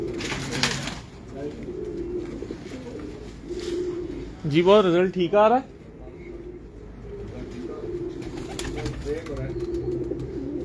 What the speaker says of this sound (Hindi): लो सर एक और कबूतर देखो